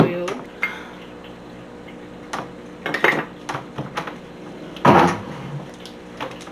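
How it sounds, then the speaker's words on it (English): Bath bomb mixture being whisked in a bowl comes through as scattered clinks and scrapes of a utensil against the bowl, a few louder knocks and clatters set against a quiet room. "So I'm gonna have to whisk it with this one."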